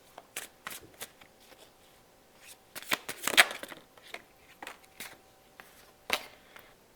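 Cards from a tarot or oracle deck being shuffled and drawn by hand, a run of crisp riffling flicks and soft slides, close and fairly quiet, with one louder burst midway.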